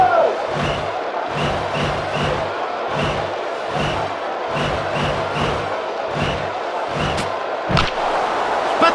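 A stadium crowd roars steadily while rhythmic thumping claps or drumbeats repeat beneath it, game-like cheering after a home run in the PS2 baseball game Netsu Chu! Pro Yakyu 2002, with no talk.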